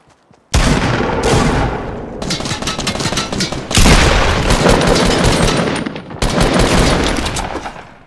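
Gunfire in a Fortnite match rings out in dense, loud bursts, rapid shots stacked into long rattling volleys with brief gaps between them, close and with no talk.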